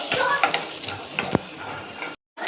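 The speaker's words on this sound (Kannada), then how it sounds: "ಅದ್ರ ಜೊತೆ ಬೆಳ್ಳುಳ್ಳಿ ಮತ್ತು ಶುಂಠಿ ಹಾಕೊಂಡು ಹುರಿತಾ ಇದ್ದೀನಿ." Garlic and ginger fry in a pan for a chicken sukka, a close, lively crackling sizzle with a few sharp stirring scrapes, cutting out abruptly near the end.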